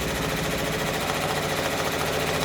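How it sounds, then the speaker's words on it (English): Close, loud embroidery machine sewing the dark-fabric placement stitch on a freestanding quilt block pumpkin, its needle hammering in an even, fast, unbroken rhythm with a motor hum underneath and no voices. "I'm going to unlock and let it stitch."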